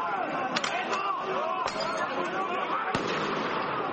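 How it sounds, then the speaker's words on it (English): Fireworks bang in several sharp, separate cracks during street clashes between German police and dozens of right-wing protesters. Crowd noise and chatter run underneath throughout. "the sound of protesters throwing bottles on the street, exploding fireworks during clashes between German police and dozens of right-wing protesters"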